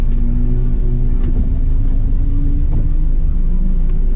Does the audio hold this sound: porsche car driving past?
yes